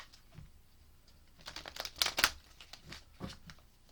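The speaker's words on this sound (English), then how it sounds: "All right, let me shuffle up the tarot cards now." Chakra Wisdom tarot cards being shuffled by hand, a soft run of papery riffles and slides with a denser flurry of crisp card snaps in the middle, close and fairly quiet with no talking.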